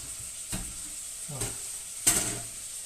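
Carrot and onion sizzle softly in a pan without oil for Ukrainian plov, with a few louder stirring scrapes and clinks at intervals; no one speaks.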